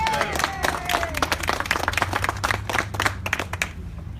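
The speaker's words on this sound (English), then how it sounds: "I want to give a round of applause to all the law enforcement who are here today to protect us" A crowd at an outdoor political rally in Harrisonburg claps and cheers for law enforcement officers, steady moderately loud applause running throughout with a faint whistle-like tone at the start.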